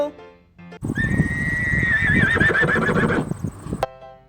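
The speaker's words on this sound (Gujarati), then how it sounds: "હોર્સ એટલે ઘોડો" A horse neighs loudly once, a high wavering whinny over a rough, noisy background, ending abruptly.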